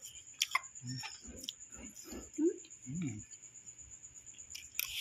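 Close, quiet crunching bites on fried kangkong chips come in a loose irregular rhythm over several seconds, with a faint steady hiss in the background and a few soft sounds from the mouth between chews.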